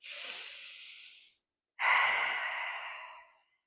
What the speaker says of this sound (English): take a full breath just to prepare